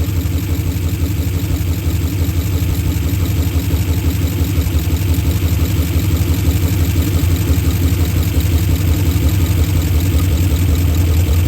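An Oldsmobile Super 88 engine idles steadily after a timing adjustment, a loud, close, continuous low rumble with an even pulsing throughout and no talk.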